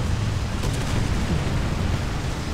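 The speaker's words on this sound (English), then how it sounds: "That's a lot of explosions." Battle explosions in the tank game War Thunder rumble as a dense, continuous low roar, loud and heavy without clear separate blasts.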